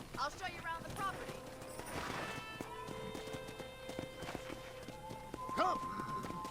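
Rhythmic clip-clop of horse hooves while riding in Red Dead Redemption, steady and moderately close, with a whinny and tonal music alongside, and voices talking over it.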